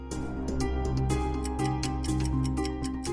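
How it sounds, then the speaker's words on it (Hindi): A clock ticks steadily inside a bag, its regular ticking sitting over a droning musical background at moderate level, with no talk. "प्रभु इसमें से टिक टिक टिक टिक आवाज आ रही है, क्या है इसमें?"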